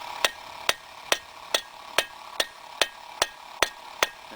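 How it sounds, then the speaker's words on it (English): Hot steel is hammered on an anvil while forging a meathook: ten sharp metallic strikes in an even rhythm about every half second, close and distinct over a faint background hiss. "And try to keep hammering over the crown."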